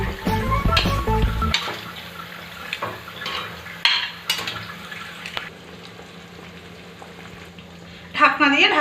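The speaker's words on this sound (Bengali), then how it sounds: "ঝোল ফুটে উঠেছে, এবার ভেজে রাখা মাছ দিয়ে দেবো।" Fish curry gravy seasoned with kewra water, bubbling in a pan as pieces of fried fish go in: a loud sizzling burst at first, then softer steady simmering with occasional clinks and a short rise near the end.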